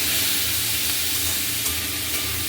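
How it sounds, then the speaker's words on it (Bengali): Chopped meat pieces frying in a home kitchen pan, giving a steady loud sizzle and hiss that continues throughout with no voices. "তো দেখো এটা ভাজছি"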